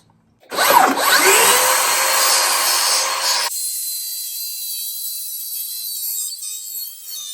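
A circular saw rips through a wooden board with a loud, close, harsh roar lasting about three seconds, then the motor keeps whining on its own after the cut ends.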